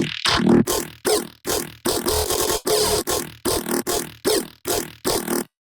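A synthesized bass plays a series of short, punchy, plucked notes in a steady rhythm, each with a sharp attack and quick decay, dry and without any heavy added processing, with no talking.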